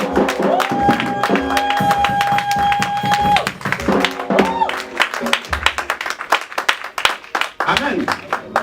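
An audience at a church dinner gala claps and cheers for Jesus in a burst of scattered applause, while a speaker's sustained voice rings out over it and the clapping thins toward the end.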